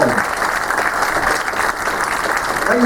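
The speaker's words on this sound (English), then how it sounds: "Give them a huge round of applause." Audience at a hypnosis stage show giving the volunteers a big round of applause, loud, dense and sustained clapping filling the whole stretch without a break.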